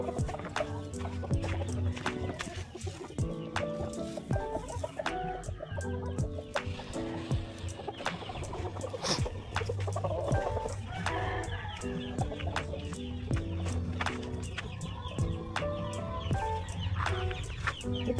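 Chicks and other farm fowl cluck and chirp steadily throughout a busy, continuous farmyard soundscape, with no clear talk over it.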